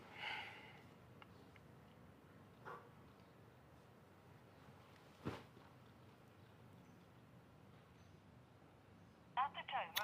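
A phone call rings out before reaching voicemail: faint, sparse ring and dial tones over a quiet room, with a cluster of sharper electronic tones near the end and a voice speaking softly.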